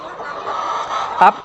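Egg-laying hens on a large hobby poultry farm cluck in a busy, overlapping murmur, with one sharper, louder call near the end; no clear talk over them.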